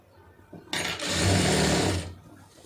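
A sewing machine stitching a fall onto a saree runs in one continuous burst of just over a second, a loud close whirring hum that starts abruptly and stops, with quiet room tone before and after.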